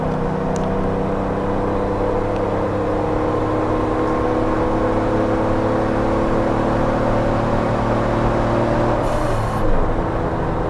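A supercharged Jeep Wrangler JK Unlimited with a RIPP Gen II Stage II kit accelerating up a mountain highway, a loud, steady engine drone and supercharger whine holding throughout, with a brief rise near the end.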